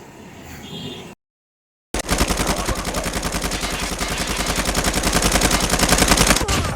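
Rapid automatic gunfire from a video game, loud and sustained, firing in a dense rattling stream after a brief silent gap.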